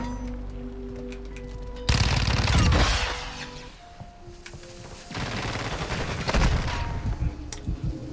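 Gunfire in a Call of Duty Modern Warfare II or Warzone match, with loud bursts of rapid automatic shots, a pause, then another sustained stretch of firing, all close and dense.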